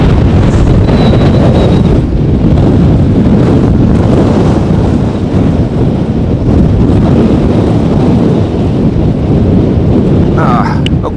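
Strong storm wind blasts across the microphone at Amsterdam Schiphol airport, a loud continuous roar and rumble with gusting buffeting throughout.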